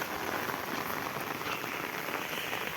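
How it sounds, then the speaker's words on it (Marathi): Steady rain falls on a farm field during the monsoon, a dense, even hiss of drops with no voices. "पाऊस पडायला लागला आहे"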